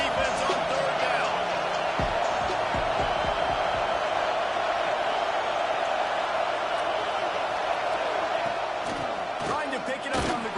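Penn State football stadium fans roaring on third down, a sustained loud crowd wash with scattered thumps and shouts, a commentator's voice faintly underneath.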